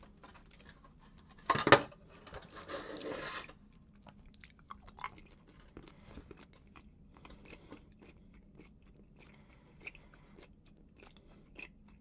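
Close, quiet chewing of a soft caramel dessert from a Bumble Bee Prime gourmet tuna kit, with a brief crinkle or clatter early on, then faint intermittent mouth sounds in a still room.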